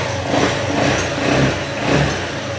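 A motorcycle engine revs up and down in three rising surges over a steady idle, loud and close.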